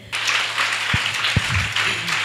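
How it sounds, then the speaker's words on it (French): Audience at a teachers' day ceremony breaking into applause, a dense wash of clapping that starts abruptly and continues steadily at moderate loudness, with a couple of low thumps. "C'est vraiment à applaudir, s'il vous plaît."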